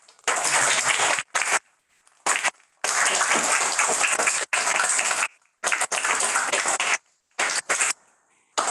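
An audience at a talk on decades of activism applauds in dense bursts of clapping, broken by abrupt silent gaps, moderately loud with no voices over it.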